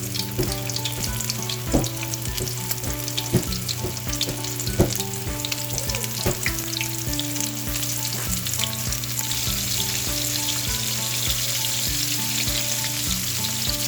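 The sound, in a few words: chicken wings deep-frying in hot oil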